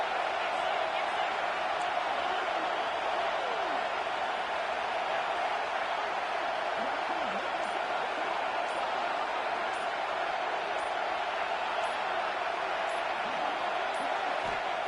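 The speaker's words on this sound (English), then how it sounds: "Home crowd trying to make a difference on 4th down." Home crowd roars on 4th down in an NCAA 26 college football video game, Texas A&M at Tennessee, a dense, steady, continuous stadium din with no break for the whole stretch.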